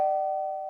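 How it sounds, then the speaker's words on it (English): A single sustained electronic chime from a cartoon doorbell, a steady clear tone that holds briefly and slowly fades. "The doorbell's ringing because Fire connected the wires together"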